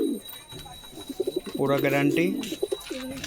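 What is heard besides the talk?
pigeons cooing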